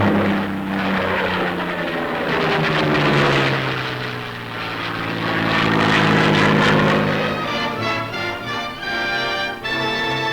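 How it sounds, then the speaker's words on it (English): Airplanes fly low over blossoming apple orchards, spreading pollen across the trees. A steady propeller engine drone swells and fades as the aircraft passes, loud and continuous, with no talk. "Airplanes are also used in this artificial but effective means of pollination of the apple blossoms."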